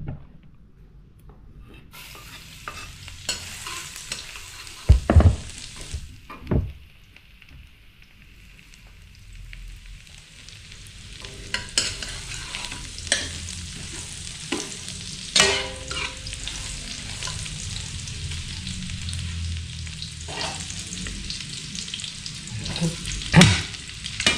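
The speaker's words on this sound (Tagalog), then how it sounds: "Nagigisa tayo ng patola." Sliced sponge gourd sautés in a pan with a continuous crackling sizzle, stirred with intermittent scrapes and knocks of a utensil, close by and moderately loud.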